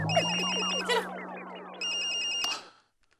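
A mobile phone rings from inside a pocket, a bright repeating electronic ringtone melody that plays twice with a brief break, fairly close and clear, then stops abruptly.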